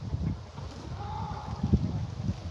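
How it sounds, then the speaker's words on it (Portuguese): Strong cold wind buffeting the microphone outdoors on a chilly morning, a low rumbling roar with gusty bumps throughout. "está muito frio, muito vento"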